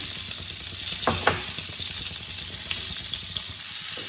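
Pointed gourd seasoned with turmeric and salt frying on low heat makes a constant, close sizzle, with a couple of distinct spatula scrapes in the middle.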